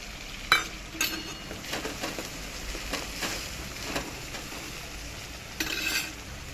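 Tomatoes stirred into onions frying in a pan: soft scraping strokes and gentle sizzling, close and fairly quiet, with a few sharper clinks of the spoon against the pan.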